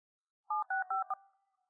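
A telephone being dialed: four short, clean touch-tone beeps in quick succession, close and clear against silence, trailing into a faint tone.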